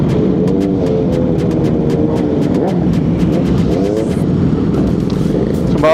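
Motorcycles at a year-end group ride, including a Kawasaki Ninja ZX-10R, rumble and rev loudly nearby, with repeated throttle blips and passing engine tones layered over a constant crowd of idling bikes.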